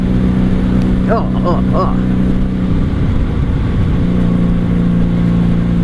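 A 1997 Honda Magna VF750C motorcycle engine drones steadily and loudly while riding, a constant low hum with wind noise throughout and a brief spoken exclamation over it.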